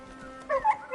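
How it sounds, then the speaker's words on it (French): A flat-nosed bulldog in the video game Crimson Desert gives a short, quiet yip or bark, a couple of brief chirps over a low background hum. "Le chien. Bulldog au nez plat."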